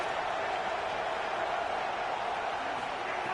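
A stadium crowd at an Indiana versus UCF college football game gives off a steady, even roar that holds at a moderate, distant level without clear peaks.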